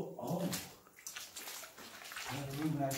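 Shallow water in the flooded boiler room of an abandoned prison sloshes and splashes close by, mixed with the voices of people talking over it throughout.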